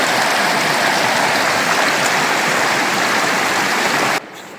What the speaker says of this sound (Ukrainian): Це батько, як тут перекатик? Перекатик гарний.